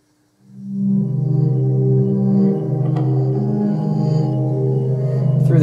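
Sustained, droning synth tone from a home-built Buchla system, run through a Buchla 208 module and drenched in heavy reverb, with layered low harmonics swelling in and holding steadily with no talk.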